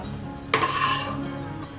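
A spoon scrapes roasted cashews out of a pan for a Navratri fasting sweet, starting with one sharp metallic scrape followed by a steady, close rasping drag.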